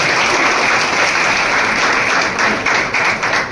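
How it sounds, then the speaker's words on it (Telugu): A crowd at a Christmas celebration in a party office claps loudly to welcome a guest, a thick continuous roar of applause lasting the whole stretch without speech. "గట్టిగా చప్పట్లు కొట్టి స్వాగతం పలుకుతారు"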